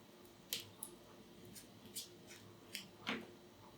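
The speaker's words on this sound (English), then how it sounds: "So I'll pull some of these leaves off the bottom here. They just rip off quite easily." Tiger-tooth aloe (Aloe juvenna) leaves ripped off the base of a stem, giving several short, crisp snapping and tearing clicks spread unevenly over a few seconds, close and fairly quiet with no talking.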